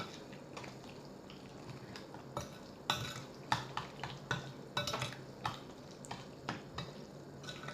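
Bun filling being mixed with ground pepper and chili flakes, a run of soft scraping and clinking utensil strokes against a bowl, irregular and close, fairly quiet.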